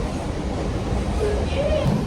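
A moving passenger train heard from inside the carriage on the way to a trek, with a steady low rumble and rolling wheel noise throughout, loud and continuous.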